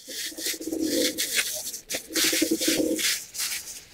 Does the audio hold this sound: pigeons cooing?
yes